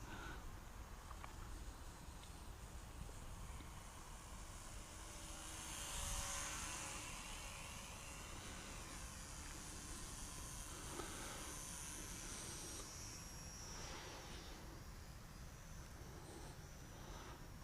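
A TOP RC Hobby SF260 radio-controlled model plane flies at a distance, its faint, thin motor buzz holding steady and swelling slightly as it passes, with no nearby sounds.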